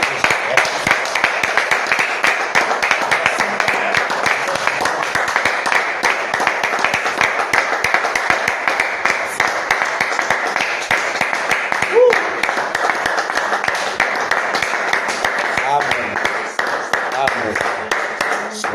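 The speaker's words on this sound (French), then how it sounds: "Applaudissons pour le Seigneur Jésus." A church congregation claps steadily in praise of the Lord Jesus, a dense, continuous patter of many hands that stays loud and even throughout, with a faint voice or two rising briefly near the end.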